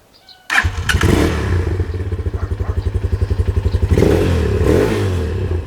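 A motorcycle engine cranks and fires up loudly nearby, settling into a steady, pulsing idle thump before revving briefly near the end.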